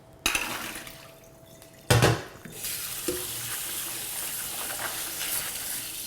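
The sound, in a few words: draining and rinsing soaked walnuts under running water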